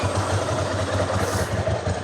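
A warmed-up Ducati motorcycle engine idles smoothly with a steady, low, even rumble heard close by, without talking.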